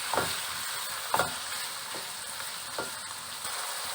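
Minced meat sizzles and crackles in a hot pan with ginger garlic paste, with a few louder scraping stirs at intervals over a steady frying hiss.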